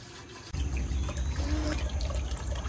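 Water runs steadily from a tap or hose while filling drinking water for farm animals in a barn, a continuous close splashing trickle that starts abruptly and carries on without voices.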